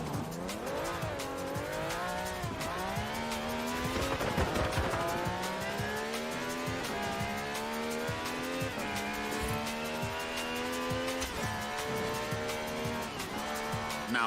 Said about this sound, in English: Holding adrift is a delicate balance of throttle, steering and shouting.